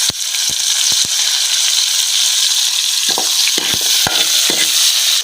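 Food frying in hot oil with a loud, dense hiss close by, punctuated by sharp pops and a scattering of clanks and scrapes from stirring.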